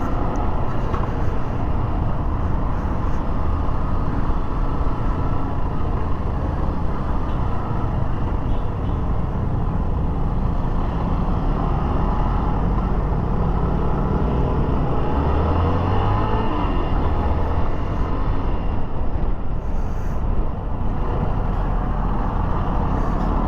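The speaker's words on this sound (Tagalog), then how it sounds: "kaka-build up ng traffic sa pagpasok doon sa ginagawang flyover na ito" Road traffic rumbles steadily near a flyover under construction, a dense, continuous wash of engines and passing vehicles at moderate distance, with no talk.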